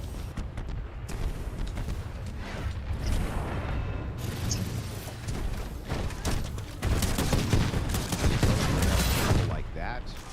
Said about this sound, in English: An enemy Titan exploding